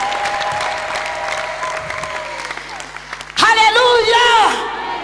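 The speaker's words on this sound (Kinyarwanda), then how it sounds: "Ababyumvise bakomera Imana amashyi" A church congregation in a cathedral applauds God in a steady wash of clapping, with a voice talking over it before a loud, tonal burst of sung or shouted praise breaks in near the end.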